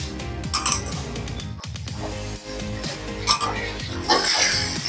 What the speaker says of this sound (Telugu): ఆలుగడ్డల ముక్కలు మగ్గాయి కాబట్టి వంకాయ ముక్కలు వేసుకుందాము